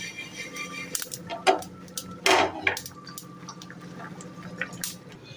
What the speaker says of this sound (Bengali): আর এদিকে করছি আমি একটুখানি মৌরিটাকে রোস্ট তারপর এটা আমি শুকনো খোলায়